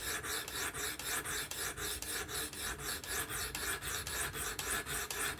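A Spyderco Kapara knife with an S30V blade drawn across stones on a fixed-angle sharpener, a quiet, rhythmic rasping with evenly spaced strokes repeating steadily, close up and without talk.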